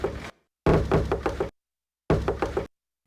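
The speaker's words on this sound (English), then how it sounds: "We got the famous Bird Boss knock here." Bird Boss knock drum sample played on a PO-33 pocket sampler, with short punchy hits grouped in bursts and separated by clean silent gaps.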